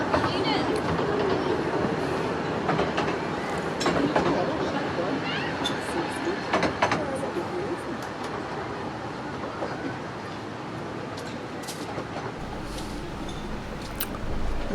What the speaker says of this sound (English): A bit of train spotting of the narrow gauge variety